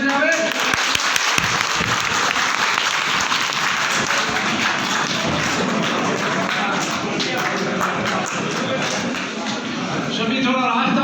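A crowd greets a Congress politician arriving at the party office in Nagaur before a nomination filing, with loud continuous clapping mixed with crowd noise and voices throughout.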